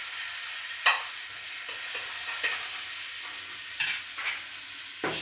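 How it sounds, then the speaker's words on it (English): Garam masala being stirred through onions frying in a pan, a steady soft sizzle broken by several distinct spoon scrapes and taps against the pan. "Stir the garam masala through your onions."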